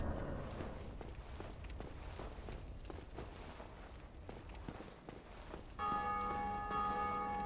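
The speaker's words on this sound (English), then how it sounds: "someone else ringing the bell." A bell rung in Dark Souls Remastered enters near the end as a clear sustained tolling tone, after several seconds of faint footsteps and low game ambience.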